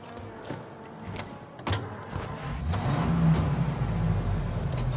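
Car driving in Mafia: Definitive Edition, a low engine rumble that swells and grows steadier toward the end, with a few sharp knocks early on.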